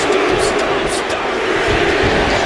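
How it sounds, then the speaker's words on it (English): A crowd in a wrestling arena cheers and roars steadily in a WWE video game, a dense, loud wall of noise with people talking over it. "Taking a moment to get pumped off of this crowd's incredible energy."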